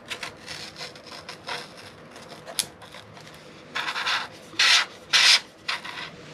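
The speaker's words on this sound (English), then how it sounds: "So just took my hobby knife and scraped that off, kind of tapered it, made sure it all smooth" Hobby knife scraping excess glue off a foam wing of an FMS Super Scorpion 90mm EDF model jet, a series of short rasping strokes, irregular at first and then three louder, longer scrapes near the end, close with no talk.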